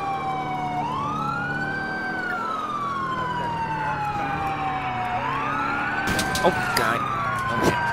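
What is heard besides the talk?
ambulance siren in video game LCPDFR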